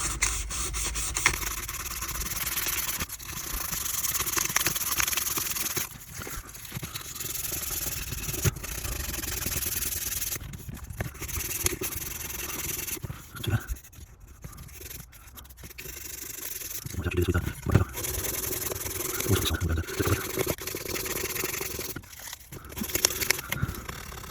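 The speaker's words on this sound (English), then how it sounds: "let's start giving this a little bit of a going over with some paper" Steady abrasive rubbing of sandpaper on the body of a Tri-ang Hornby Class 3F 'Jinty' model locomotive, a continuous close scratchy hiss with brief pauses and shifts in stroke.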